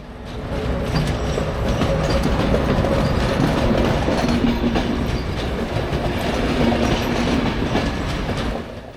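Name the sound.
train pulling into station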